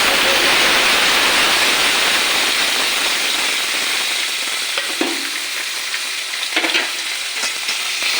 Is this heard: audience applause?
no